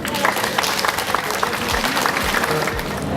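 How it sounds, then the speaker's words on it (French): An audience claps continuously, a full wash of applause with a few louder claps standing out. "Mesdames et messieurs, un tonnerre d'applaudissements."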